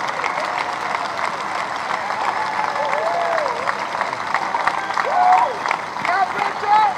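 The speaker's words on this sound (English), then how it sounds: "he deserves that round of applause" A crowd at a Smokies minor-league baseball game applauds steadily after a hit breaks up a perfect game, with cheers and whistles rising near the end and an announcer talking over it.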